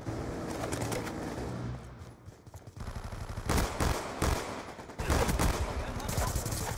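Bursts of gunfire in the Black Ops 2 multiplayer map Turbine, sharp rapid shots in clusters after a quieter stretch, loud and close, mixed with ambient game noise.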